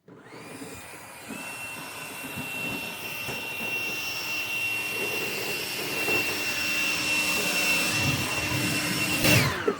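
A Kobalt 40V battery-powered snowblower runs steadily through a thin half-inch layer of snow during a snow and ice storm, a loud continuous electric whine with a high tone that holds throughout and cuts off abruptly near the end.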